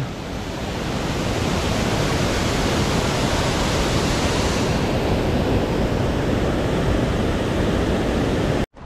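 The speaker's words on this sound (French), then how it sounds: "Regardez-moi un peu cette rivière. Elle est déchaînée avec la fonte des neiges." Raging mountain river swollen by snowmelt in the Ariège Pyrenees, a loud, dense, unbroken roar of rushing water close by, steady throughout and cutting off abruptly at the end.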